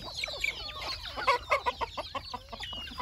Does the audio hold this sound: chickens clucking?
yes